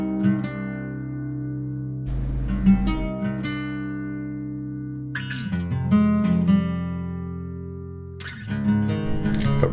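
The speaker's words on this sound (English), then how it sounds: "And dry, the guitars sound like this." Dry guitars with no tape machine or reverb, layered strummed chords and picked notes ringing close and clear, with sharp attacks recurring every few seconds.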